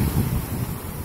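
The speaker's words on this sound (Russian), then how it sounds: "Ветер очень сильный." Very strong wind buffets the microphone beside a grey winter sea, with a steady low roar of gusts and surf filling the short stretch, loud and close, with no voices.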